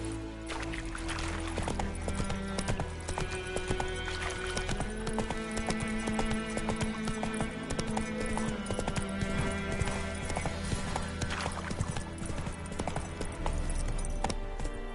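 Hooves clip-clop in a rapid, rolling gallop rhythm as a horse runs in The Witcher 3, steady and close over a layered game soundscape with background music.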